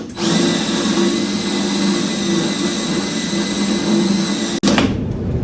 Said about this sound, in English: Got that drilled.